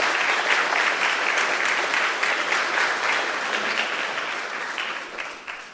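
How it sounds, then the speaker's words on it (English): Audience at a video game environment art panel applauding the speakers, sustained crisp clapping from a room full of people that holds steady, then begins to thin and fade near the end. "let's have a huge round of applause for all our speakers"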